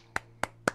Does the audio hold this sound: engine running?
no